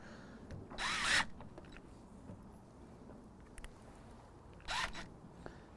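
Two short, loud bursts of an older DeWalt cordless impact drill driving into wood, separated by several seconds of quiet with small clicks and handling noises.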